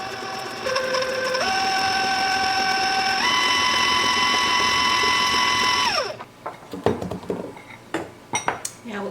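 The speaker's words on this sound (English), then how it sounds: "I'm going to mix this with the paddle attachment" A stand mixer fitted with a paddle attachment beats cake batter, its motor whine stepping up through speed settings, then winding down before a few clinks of metal against the bowl.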